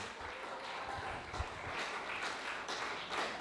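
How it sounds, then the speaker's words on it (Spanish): A church congregation applauds at a steady, moderate distance, a soft continuous wash of many hands clapping with no voices over it. "Dele un aplauso a Cristo."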